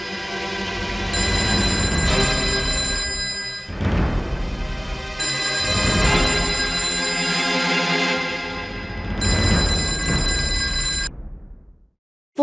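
A telephone rings in long, insistent bursts with short pauses between, loud and close, then stops near the end.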